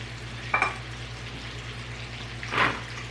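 Onions sizzle in a hot pan, a steady soft frying hiss with a low hum beneath and a couple of brief louder stirring scrapes, close by and with no talking.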